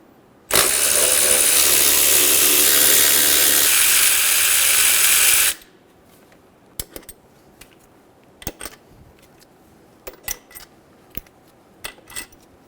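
A ratchet with a 10mm socket spins rapidly and loudly for about five seconds, loosening throttle body bolts on a 2011-2014 Hyundai Sonata, followed by scattered faint clicks and taps.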